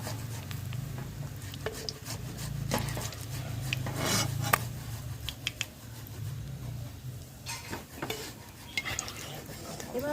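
Fried egg koftas are lifted out of a pan of oil, with clinks and scrapes of a utensil against the metal over a soft background sizzle, close and intermittent.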